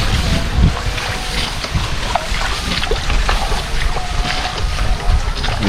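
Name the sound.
wind blowing on a river boat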